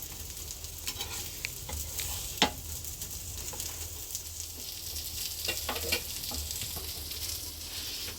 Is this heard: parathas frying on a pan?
yes